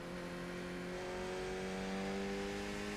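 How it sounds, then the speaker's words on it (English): PWM-driven cooling fans in a DIY sim racing wind simulator give off a steady tonal buzz with layered harmonic whine, continuous and fairly loud, with no talk. "the PWM buzz in the fans actually sounds like the car accelerating"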